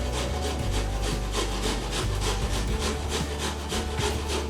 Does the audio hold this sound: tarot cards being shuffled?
no